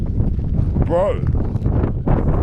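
Strong wind buffets the microphone on a high, windy mountain ledge, a steady roar of low rumble filling the clip, with a voice speaking briefly over it.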